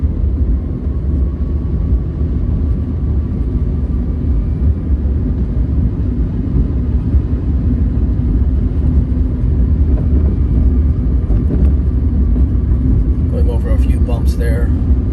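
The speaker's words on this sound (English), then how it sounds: "the electric motoring sound that it generates, it sounds pretty pleasant" An Electra Meccanica SOLO electric car drives along with a steady low rumble and faint whirring hum inside the cabin, with some wind noise and a few light knocks toward the end.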